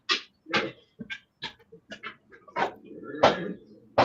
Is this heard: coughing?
no